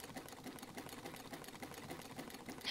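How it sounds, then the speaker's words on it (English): Sewing machine stitching a portrait at SXSW, a steady rapid mechanical whir with fine ticking running continuously, set amid a busy crowd with background chatter. "using his sewing machine"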